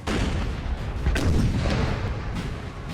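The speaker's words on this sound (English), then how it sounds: "Looks like we have France shooting at the Portugal artillery." Artillery fire in the video game Napoleon Total War, French guns shooting at Portuguese artillery, producing rolling booms and rumbling blasts that overlap continuously, loud and dense throughout.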